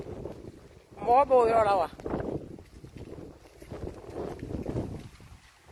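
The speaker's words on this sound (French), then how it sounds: "il y a aussi beaucoup de vent. Il y a trop de vent." Strong wind buffets the microphone outdoors in rough, roaring gusts while someone speaks French over it.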